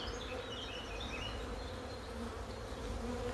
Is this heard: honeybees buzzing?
yes